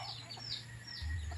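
Chickens in a rural yard, with a few faint clucks and short calls over a low steady hum and a louder low rumble near the end.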